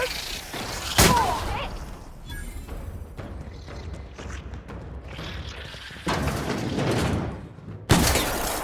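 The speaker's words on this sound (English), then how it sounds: "Gunfire, I heard." Sharp bursts of gunfire crack out at intervals over a busy soundscape in the video game The Outer Worlds, with a loud shot near the start and another near the end.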